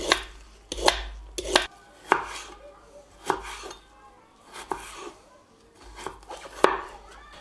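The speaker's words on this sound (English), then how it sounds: "we cut it in strips and put that in with the broth as well" A knife cuts food into strips on a board while paella with black tiger prawns and chicken is prepared, giving a series of sharp, close chops in an irregular rhythm with brief pauses between cuts.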